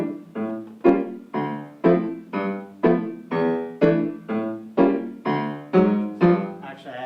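Harlem stride piano left hand alternating bass root, chord, fifth and chord in a steady oompah rhythm, about a dozen evenly spaced strokes, close and clear with no talking.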